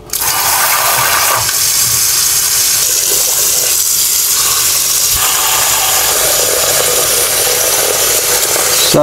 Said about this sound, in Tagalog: At atin siyang lalagyan ng tubig at papakuluan natin siya hanggang lumambot.